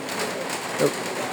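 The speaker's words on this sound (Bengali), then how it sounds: "খুবই ভয়ানক বৃষ্টি হচ্ছে বাংলাদেশে।" Heavy rain pours down in Madaripur, Bangladesh, as a dense, steady hiss with no pauses in a brief stretch.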